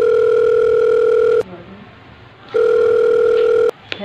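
A steady telephone dial tone sounds loud and close, cuts out briefly, then resumes before stopping again.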